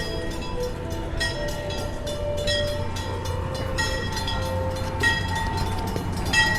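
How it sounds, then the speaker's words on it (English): A roller coaster train rolls past at Six Flags Fiesta Texas with a loud, steady rumbling roar and rhythmic clattering over the track, close by, with no talking. "Oh, look, here comes the train."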